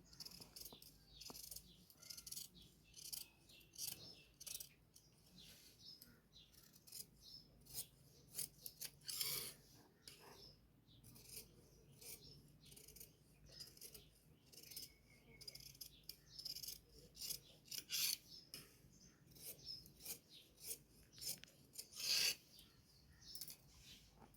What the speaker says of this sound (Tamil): இப்போ வந்து கீழே இருக்க கோட்டில் தான் வந்து நம்ம கட் பண்ணுறோம்